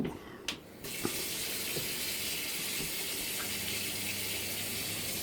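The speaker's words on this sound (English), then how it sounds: "My assistant will open the hot tap." A hot tap on a system with a Baxi 105E boiler opens with a couple of clicks, then water runs in a steady, rushing stream into a sink, continuing evenly to the end.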